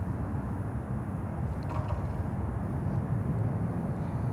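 A LAN Chile airliner arrives at Miami airport, heard as a steady, heavy roar of jet engine and rumble that holds at a constant loud level throughout.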